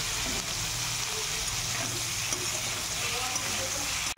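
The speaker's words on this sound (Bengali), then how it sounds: "এঁচোড় আর আলু দিয়ে ভেজে নেব ভালো করে।" Young jackfruit and potatoes fry in hot oil, a loud, dense, continuous sizzle close at hand with a faint low hum underneath.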